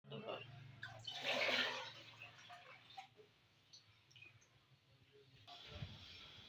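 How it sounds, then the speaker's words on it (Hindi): Water, two kilos of it, poured into a pot for kadhi, a splashing gush that peaks early, then trails into faint trickles and drips in a quiet kitchen. "2 किलो पानी हम इसमें ऐड,"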